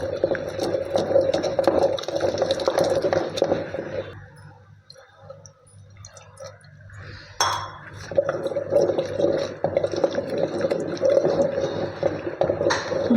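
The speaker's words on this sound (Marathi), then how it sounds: "आता आपण यात थोडेसे दूध टाकू व हलवून घेऊ।" Milk poured into a pot of rice kheer and stirred, with liquid sloshing and a spoon clinking and scraping against the pot, steady and close, easing briefly in the middle before the stirring picks up again.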